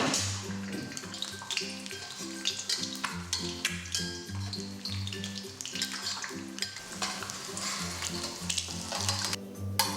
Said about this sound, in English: We start by frying the egg. For a fried egg with a runny yolk, you need to use more oil over a medium heat.